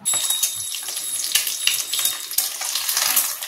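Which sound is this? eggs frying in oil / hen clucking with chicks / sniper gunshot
eggs frying in oil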